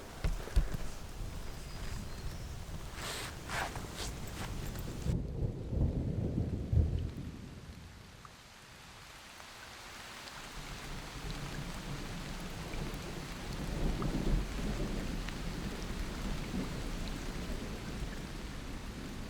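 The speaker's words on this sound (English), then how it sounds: "So it started raining as soon as I got to the top." Rain and thunder heard from inside a cave on a cliff top: a long rolling rumble of thunder swells and fades, then steady rainfall hisses on without pause.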